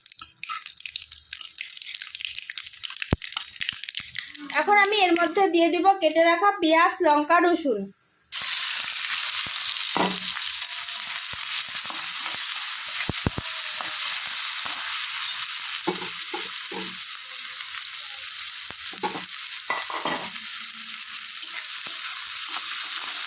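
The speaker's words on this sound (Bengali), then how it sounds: "মাছটা ভেজে উঠিয়ে নিয়েছি তারপর তেলের মধ্যে দিয়ে দিব কালো জিরে" Nigella seeds (kalo jeere) hitting hot oil left from frying fish, a steady close sizzle that fills the pan after a short stretch of voice and stirring clatter.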